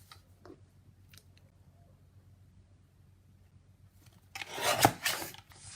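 A stamped card piece is trimmed down to size. After near silence with faint ticks, a burst of close, rough rasping cuts and scrapes comes near the end.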